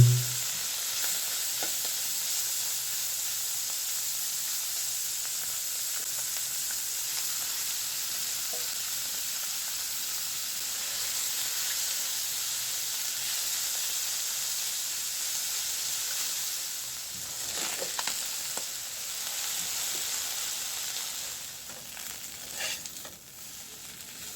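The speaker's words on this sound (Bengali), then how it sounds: "মাছ ফ্রাইয়ের জন্য পরিমাণ মতো তেল দিব মাছ একটু বেজে নিব" Small tangra fish fry in hot oil with a continuous dense sizzle and hiss. Faint clinks and shuffles of stirring come late on, with no voices.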